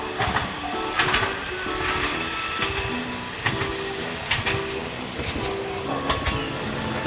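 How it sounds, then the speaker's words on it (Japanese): A train rumbles closer to a railway crossing in Japan while the crossing bell keeps up its steady repeating clang, both moderately loud and continuous with faint hiss and clatter underneath; no one speaks. "電車の音が聞こえてきました。 踏切も鳴ってます。"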